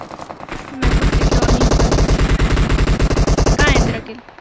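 Sustained rapid automatic gunfire in the battle royale game BGMI, a loud, steady burst of shots lasting several seconds after a short lead-in of quieter sounds, then cutting off.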